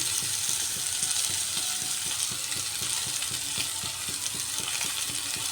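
Tomatoes and a little ginger drop into a hot frying pan for a spinach dish, setting off a steady close sizzle with a busy crackling texture that runs evenly throughout, no voices.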